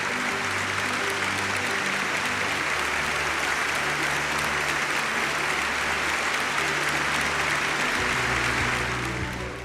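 A large audience at a Kargil Honours 25th anniversary ceremony applauds the chief guest, General Anil Chauhan, with dense, sustained clapping that fills the hall steadily for nearly ten seconds over a low, constant hum.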